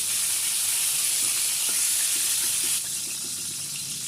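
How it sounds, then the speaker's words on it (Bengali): Pointed gourd (potol) pieces fry in oil, a steady close hiss of sizzling with a few soft scrapes, easing slightly quieter near the end; no voices. "দেখুন পটলগুলো আমি হালকা ব্রাউন করে ভেজে নিলাম, একদম নরম হয়ে যাচ্ছে।"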